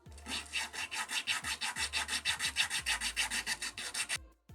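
Small wooden miniature clapperboard sanded by hand, a long run of rapid, even back-and-forth rasping strokes, about a dozen per few seconds, close and steady with no talk.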